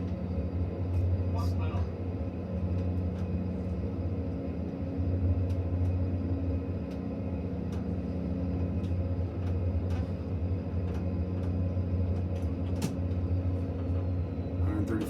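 Inside a Dash 8 turboprop descending with full flaps, a steady low propeller and engine drone with a rumbling tone fills the cabin, continuous and fairly loud, while a person talks over it at times.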